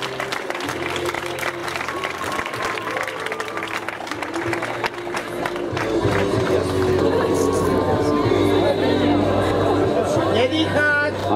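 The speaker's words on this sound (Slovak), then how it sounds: "Dnešný Iveta Furáková a váš potlesk k tomu." A crowd at the Continental Pustý hrad 2018 running race applauds a winner with steady, sustained clapping and chatter, swelling louder in the second half while a voice talks over it.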